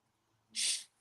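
A single short, sharp sneeze bursts out close by in an otherwise quiet moment.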